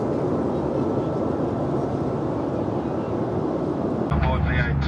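A steady, loud roar of engine and air fills the economy cabin of a Virgin Australia Boeing 737, VH-YIT, just before the climb begins, and the sound shifts slightly near the end.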